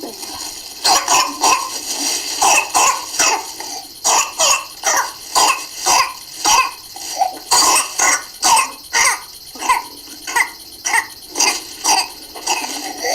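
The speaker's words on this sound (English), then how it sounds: "Cough, cough, cough, cough, and then gasping for air." A child coughs in rapid, repeated bursts, with strained gagging and sharp gasping breaths between fits, loud and close throughout.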